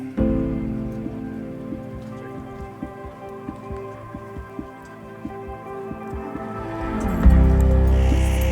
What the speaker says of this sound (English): it's raining down at lake level